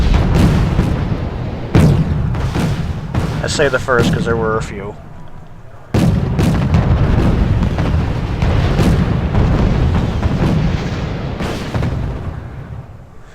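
A T-55 tank counterattack in a war video game brings repeated heavy booms and blasts, with sharp cracks at irregular intervals and a continuous rumble, while someone talks over it.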